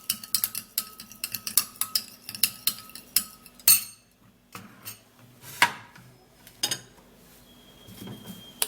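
A spoon stirring orange papaya seed juice in a glass, a run of sharp, close clinks and taps against the glass, rapid at first and then spaced out, with quiet gaps between strikes.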